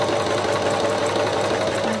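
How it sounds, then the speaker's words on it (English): A sewing machine stitches fabric with a presser foot, a loud close rapid mechanical whir with tightly even rhythm, running without a break. "you simply sew on through using the guide to feed through the fold in your fabric"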